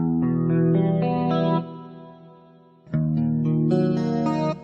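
Electric guitar chords ring out with a clean, slightly chorused tone, one sustained strum fading before another chord is struck.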